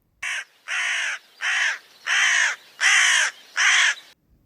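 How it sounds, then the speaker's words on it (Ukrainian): A crow caws six times, each harsh call loud and close, with short even pauses between them and no other sound. "Такі звуки видає ворона."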